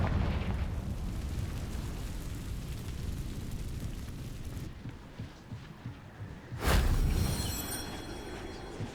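Confringo fire spell in Hogwarts Legacy: under a rumbling backdrop of combat, a sudden loud blast erupts near the end, sharp at its onset, then decays with a ringing tail.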